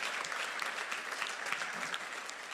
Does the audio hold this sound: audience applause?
yes